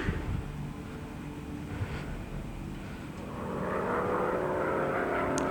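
A droning propeller warplane engine in a video game hums steadily, swelling slightly louder toward the end, with no talking.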